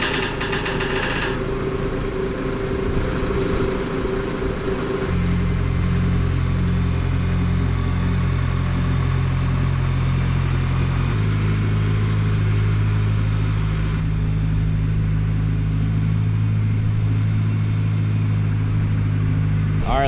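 Engine of a truck running during a soybean harvest in North Dakota, loud and close. A steady drone shifts pitch as it revs and settles, with a couple of abrupt changes in tone and no speech.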